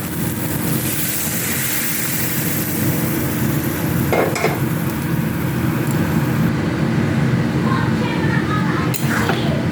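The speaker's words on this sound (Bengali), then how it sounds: "আমি এবার ডালটাকে এর মধ্যে মিক্স করে দিচ্ছি" Dal poured and stirred into fried vegetables in a pan, a continuous loud sizzle with a couple of sharper scraping strokes, close by, with no speech.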